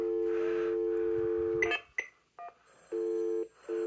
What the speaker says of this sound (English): it's ringing the payphone in the other room.